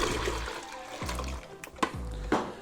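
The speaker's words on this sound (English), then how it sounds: "So we're going to pour this into our fermenting bucket." Sanitizer solution is poured into a fermenting bucket, a close, gurgling splash of liquid that comes in a few surging pulses.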